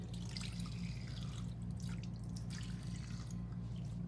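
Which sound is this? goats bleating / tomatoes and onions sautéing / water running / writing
water running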